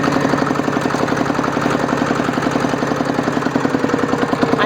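A modified farm tractor engine chugs steadily in first gear, a loud, close, rhythmic mid-pitched diesel knock running continuously without talk.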